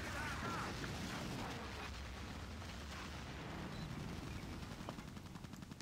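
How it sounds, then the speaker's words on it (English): An artillery strike lands in the Battlefield 2 video game, a steady low rumble of explosions and distant battle noise rolling on continuously and fading slightly near the end. "the guy's just done an artillery strike on our position there"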